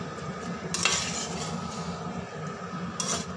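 Chopped spinach and potato curry stirred in a pan, a soft continuous scraping and shuffling with a couple of brighter clinks of the spoon against the metal, close and moderately quiet with no talking.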